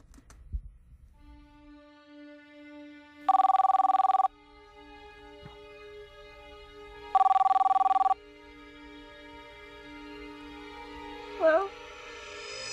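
A telephone rings in two loud bursts of about a second each, set a few seconds apart, above a steady electronic hum, with a brief tonal chirp near the end.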